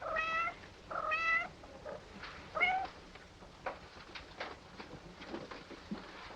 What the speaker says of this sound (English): My poor kitties.